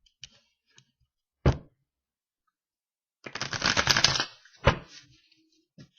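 Tarot cards are shuffled with a soft burst of riffling near the middle. Scattered isolated taps and clicks of the cards come before and after, all close and fairly quiet.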